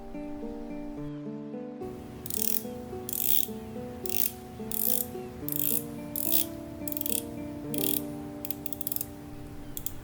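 The rotating bezel of a Ball NEDU automatic dive watch clicks through a series of close, crisp ratcheting bursts in an irregular rhythm, heard up close and quiet, without speech.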